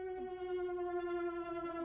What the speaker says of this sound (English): What are all these alarms?